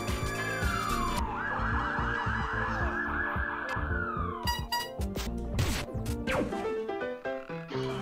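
Police car siren in the Pizza Tower video game, a loud wailing tone sweeping steadily over busy game music, followed by a burst of crashes and thwacks.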